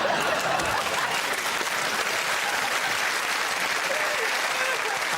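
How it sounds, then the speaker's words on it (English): Steady, dense applause from a TV studio audience on a comedy panel show, filling the whole stretch at an even level with no break. "I think that might be the least satisfying round of applause I've ever had."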